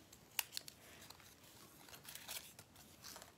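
Scissors snip through paper during a mixed media bird nest craft, giving faint, close, sporadic crisp cuts and rustles with no talking.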